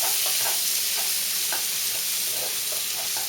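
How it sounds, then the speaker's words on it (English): Chili powder being stirred into vegetables in a pot, a constant close hiss of sizzling with soft periodic scrapes of the spoon. "Stir that in good."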